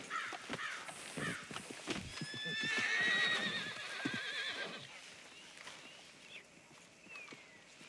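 Horse neighs and whinnies in Red Dead Redemption 2, with a long rising whinny in the middle, set against clip-clopping hooves and scattered crow caws, fairly close and clear with no talk.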